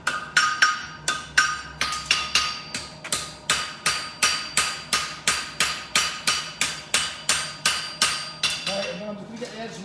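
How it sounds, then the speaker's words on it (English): A hammer edge taps along the heel border of a shoe during a basic shoe modification, about twenty crisp, evenly spaced metallic strikes in a steady rhythm, close and alone. "I'm just going to get the edge of my hammer and just going to put the inside border down"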